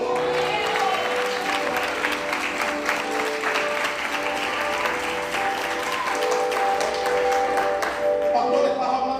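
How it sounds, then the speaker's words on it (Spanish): A church congregation bursts into sustained applause during a Spanish-language sermon, a thick, continuous clatter of many hands over soft held musical tones. "Den un aplauso a Dios."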